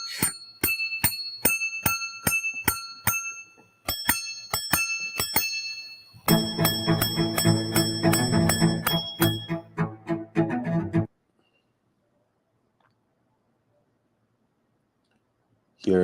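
A Patek Philippe reference 3947 minute repeater wristwatch chimes, with a run of clear, close bell-like strikes on its gongs. The strikes come in groups with short pauses between them. The chiming fades out and is followed by silence.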